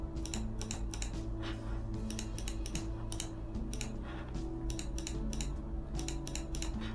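A password is typed on a computer keyboard while setting up an SPRO CCTV recorder, with steady runs of close key clicks in quick bursts over a constant low electrical hum.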